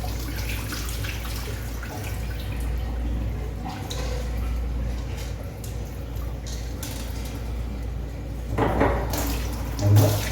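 Water runs and splashes steadily into a metal pot, with a few louder sloshes near the end.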